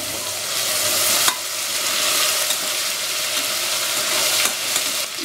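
Ginger garlic paste frying with fennel seeds, cinnamon and cardamom in oil for fish biryani, giving a loud continuous sizzle with a sharp stirring clack near the start and a softer one near the end.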